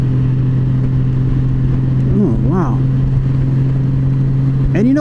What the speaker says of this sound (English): the motor has a really nice deep tone to it